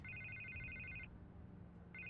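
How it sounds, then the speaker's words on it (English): Telephone ringing in two bursts, a long electronic trill that breaks off and starts again, faint and alone with no voices. "I can't get the phone to stop ringing"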